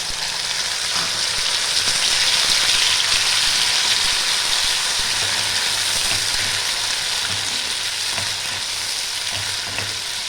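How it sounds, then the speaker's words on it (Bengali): Ginger paste and tomato fry in a pan for khichuri, a loud, steady sizzle with a continuous bright hiss and faint stirring throughout, with no voices. "আদা আর টমেটোটা ভালো করে একটু ভেজে নেব।"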